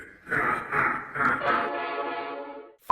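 A train rolls by with a loud horn blast sounding in repeated pulses and then a held tone, fairly close, ending abruptly.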